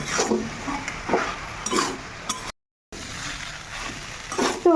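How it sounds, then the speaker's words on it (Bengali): Potatoes and spices sautéed and stirred in a pan, a utensil scraping in a few separate strokes over a low, steady sizzle, close by, with a short silent break midway. "এইবারে এর সঙ্গে বেশ ভালো করে টাইম ধরে সুন্দর করে কষিয়ে নেব"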